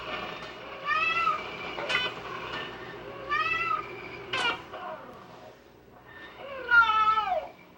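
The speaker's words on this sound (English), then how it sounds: "The meow is a composite call made of 2 different components." Several cat meows of varying length, clear and close, separated by short pauses, the last one long and drawn out.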